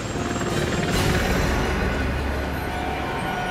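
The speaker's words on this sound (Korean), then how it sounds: "헬기 상륙작전 실시." Military helicopter during a helicopter landing operation from an Aegis destroyer, a continuous loud rotor roar and rumble that holds steady throughout with a brief swell near the start.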